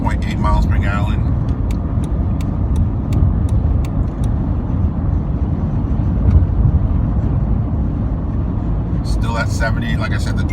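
Steady road and engine drone from a car cruising at 70 mph on cruise control, a constant broadband rumble with wind and tyre noise filling the whole stretch, with a few faint clicks and rattles inside the cabin.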